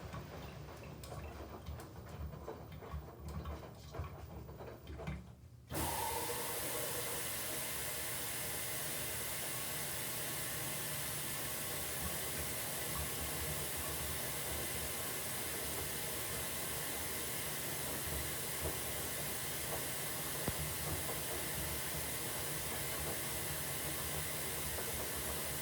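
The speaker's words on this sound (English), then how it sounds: "I'm gonna miss the sound of this washer." An LG WM3770HVA front-load washing machine on its rinse cycle: after a few quiet seconds, a loud, steady rush of spraying water with faint ticks settles in and runs on evenly to the end.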